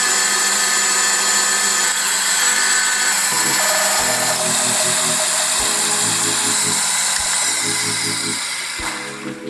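A lathe drills holes into a metal revolver drum, a steady high whine of the spindle with the cutting tone shifting in repeated passes as each hole is bored, close and loud, slowing near the end.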